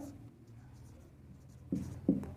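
Pen scratching on paper while an equation is written by hand in a math lesson, quiet at first, then a few louder distinct strokes near the end, with no voice over it.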